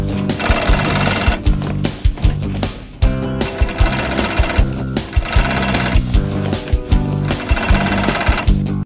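A blind stitch sewing machine runs steadily, sewing side hems on drapery, with a dense mechanical whir and rapid rhythmic clatter that carry on nearly without pause, close and loud throughout.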